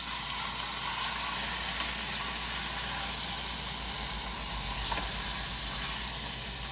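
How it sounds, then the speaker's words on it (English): Steaks sizzle in a hot pan after being flipped for a ten-minute keto meal, giving a steady, loud, unbroken hiss of frying that carries on evenly throughout. "so I'm going to flip these steaks to the other side"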